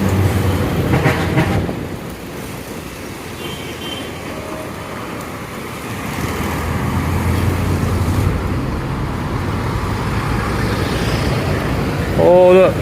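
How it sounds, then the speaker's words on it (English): Congested city traffic in Davao City, Philippines, forms a dense, continuous rumble of engines and road noise, with a brief louder pass near the end. "Traffic, traffic,"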